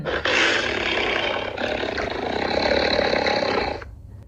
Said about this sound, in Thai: มันอ้าปาก ส่งเสียงคำรามลั่น